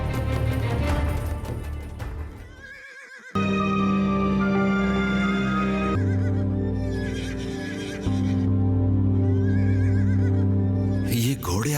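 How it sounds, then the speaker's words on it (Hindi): Horses at a royal palace whinny and neigh loudly in several long, overlapping calls, mixed with dramatic background music and faint hoofbeats. "ये घोड़े आज इतना शोर क्यों मचा रहे हैं?"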